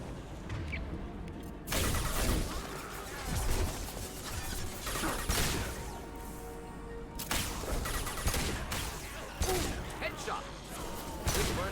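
Concentrated enemy gunfire in the Mass Effect video game, heavy overlapping volleys and impacts that rise and fall in loud waves throughout, with voices talking over the shooting.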